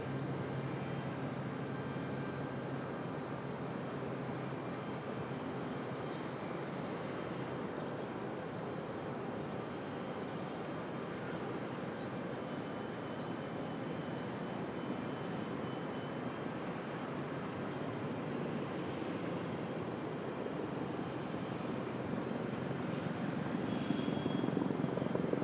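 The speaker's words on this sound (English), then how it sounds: "Frontier 1225 coming in from San Juan, Puerto Rico." A Frontier airliner on flight 1225 from San Juan, Puerto Rico comes in to land at Raleigh-Durham airport, a steady broad jet engine roar heard from a distance that swells louder toward the end, with no voices.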